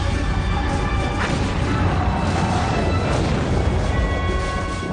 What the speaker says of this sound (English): Cannon fire from the 3 American Navy ships overpowered the Arab guns firing from the water battery.